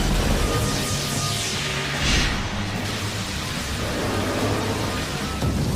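Anime sound effect of a thunderstorm, with a steady loud wash of heavy rain and rumbling thunder surging through it, with no voices.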